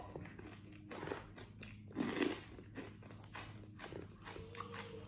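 Crunchy bites and chewing of a Costco keto snack, close mouth sounds with a louder crunch midway and softer rhythmic chewing around it.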